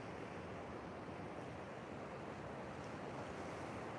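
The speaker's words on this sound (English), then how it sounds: "You can see the waves breaking over that rock." Ocean waves breaking over rocks along Gold Coast beaches near Snapper Rocks, a steady broad wash of surf with wind noise, continuous and moderately distant, with no voices.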